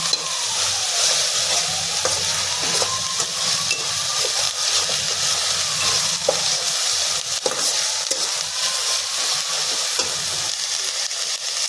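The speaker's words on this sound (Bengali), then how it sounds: "রসুন বাটাটা দিয়েও আমি 1 মিনিটের মতো কষিয়ে দিচ্ছি।" Garlic and ginger paste, added with onions, sizzles and fries steadily in a pan for a green chicken dish, with occasional stirring scrapes over a constant hiss.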